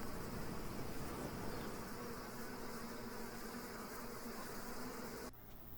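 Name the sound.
bees buzzing at hive entrance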